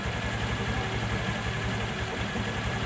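A Honda motorcycle engine idles steadily after a slow-idle adjustment and swingarm bushing replacement, a continuous even low throb with constant loudness, close by and without talk.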